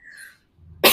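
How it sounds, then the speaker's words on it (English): A single sharp cough bursts out at the very end, loud and close, after a moment of near silence. "One final cough to say goodbye."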